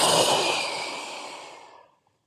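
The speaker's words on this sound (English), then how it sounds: "Exhale out." One long, deep breath out during a guided breathing exercise, a soft airy rush that starts strong and fades away to silence after about two seconds.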